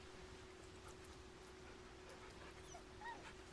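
Faint, soft whimpers and whines from a dog in Baldur's Gate 3 sit over a steady low background hum.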